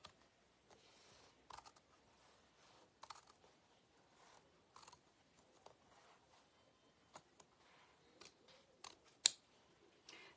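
Scissors snip through a denim jacket in short, sparse cuts with gaps between, close and fairly quiet, the sharpest snip near the end.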